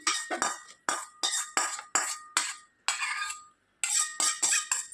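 A spatula scrapes roasted coriander seeds and dried red chillies out of a pan onto a plate in about a dozen quick, rhythmic strokes, each a bright metallic rasp, with no one talking.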